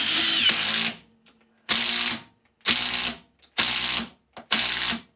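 A Makita 40v impact driver on its second bolt setting drives screws in five separate loud bursts of rapid hammering, each a second or less, with short silent gaps between them.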